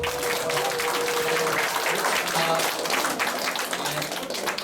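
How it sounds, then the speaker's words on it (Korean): A lecture audience applauds steadily at the end of a talk, a dense patter of clapping that carries on throughout. "다시 한번 박수드립니다"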